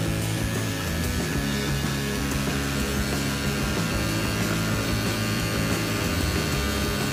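An electric hand engraver runs steadily at its lowest speed setting, a continuous close motor whine and buzz held without a break throughout.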